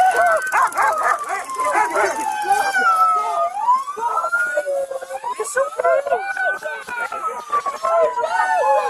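A police dog barks repeatedly and excitedly as it is deployed under a truck, over a wailing siren, with people shouting nearby in a chaotic scene.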